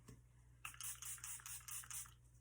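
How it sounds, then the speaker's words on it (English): Charlotte Tilbury setting spray mists onto a face in several quick, soft hissing pumps in a row, quiet and close with no talking. "And I just spray that on."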